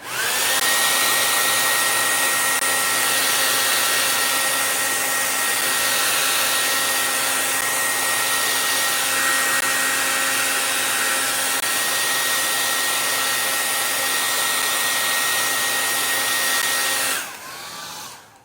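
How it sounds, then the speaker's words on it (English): A hair dryer blows steadily at close range with a constant high whine for most of the clip, then cuts off abruptly near the end. "Speed up the process with a hairdryer."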